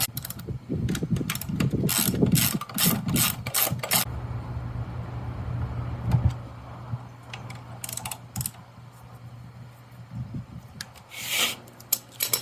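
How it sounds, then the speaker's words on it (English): A ratchet tightens the caliper bolts on a 2003 Honda Shadow Spirit 750 motorcycle, with bursts of rapid clicking, scraping metal handling and pauses between strokes, heard up close. "Gonna tighten my caliper bolts here."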